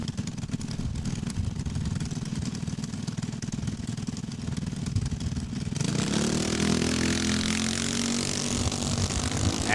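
Race cars launch from the start line at a drag strip, engines droning at first before a louder roar and rising whine take over, staying near and strong to the end.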